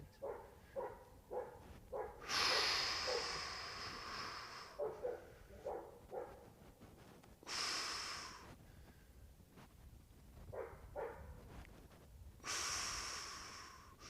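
Deep, slow breaths drawn in and let out during a held stretch in a flexibility routine, with a few long airy exhalations rising and fading between quieter rhythmic breathing, close and alone with no talk.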